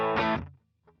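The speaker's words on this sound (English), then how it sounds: "Just the compressor with nothing else sounds like this." A sustained electric guitar chord played through an Origin Effects Cali76 compressor pedal with no other effects rings out bright and dense, then decays quickly and gives way to a faint brief plucked note at the end.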